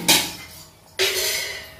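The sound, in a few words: lid placed on cooking pot of chana curry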